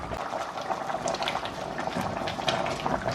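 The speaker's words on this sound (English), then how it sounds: "The corn soup is boiling." Corn and peanut soup spiced with pepper soup spice at a rolling boil in a pot, a close, steady bubbling and popping with small liquid gurgles and no voices.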